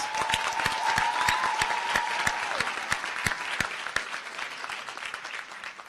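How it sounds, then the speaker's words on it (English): A ceremony audience at a university commencement in Grenada applauds the commencement committee, a dense, steady round of clapping with a few sharper individual claps standing out, with a faint sustained tone running beneath it early on. "Let's give them a round of applause."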